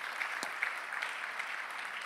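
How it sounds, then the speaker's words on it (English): Applause from a conference audience at a security event, a soft steady patter of clapping from a moderately sized crowd, fairly distant and faint. "Another round of applause for Leon."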